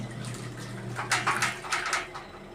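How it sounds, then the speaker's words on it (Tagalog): Hot water running from a shower in a small home bathroom, a soft steady spray with brief louder splashing bursts, fairly close and alone. "Ito yung hot water. Ayan, hot water yan."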